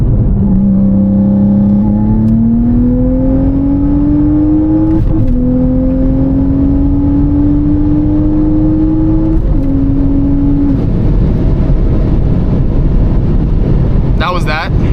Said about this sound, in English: All right, third gear, 60 roll. This time I'll do anti-lag.